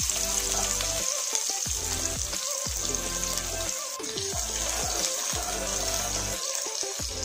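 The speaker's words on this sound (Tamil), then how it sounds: "நல்லா வெங்காயம் வதங்கணும்" Sliced small onions (shallots) frying in oil for kovakkai (ivy gourd) puli kuzhambu, a steady hiss and sizzle with water-like running noise and low rhythmic thumps throughout.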